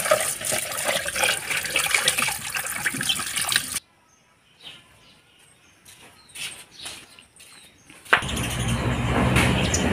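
Peeled bamboo shoots are washed in water, with splashing and running water loud at the start and end and a quieter gap of small drips and knocks in between.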